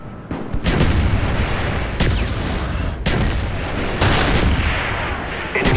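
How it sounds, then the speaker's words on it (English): Mortar strikes in Call of Duty Black Ops multiplayer land as a string of loud, close booming blasts about once a second, each crash followed by rumbling debris, with gunfire mixed in. "Mortar team standing by."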